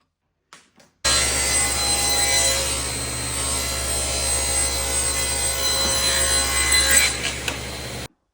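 A hand saw cuts through wood with the grain, giving a steady, loud rasping stroke sound that runs continuously for about seven seconds, close up, with no talking.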